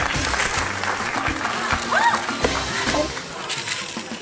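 An audience at a food game show applauds and cheers contestants racing through bowls of wide noodles, a steady wash of clapping with voices talking over it.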